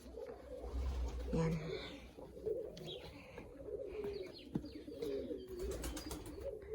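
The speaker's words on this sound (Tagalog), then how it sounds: "May kalapati pa yan dyan guys sa loob." Pigeons coo softly inside a greenhouse in Poland, low throaty calls repeating under a man's nearby speech, with light rustling and occasional faint chirps around them.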